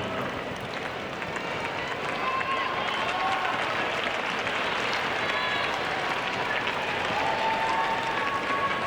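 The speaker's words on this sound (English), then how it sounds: "It's a New York crowd." A large New York crowd at a US Open women's tennis semifinal applauds and cheers in a loud, dense, sustained roar of clapping and voices that fills the whole stretch.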